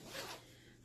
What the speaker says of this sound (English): with that zipper to really make,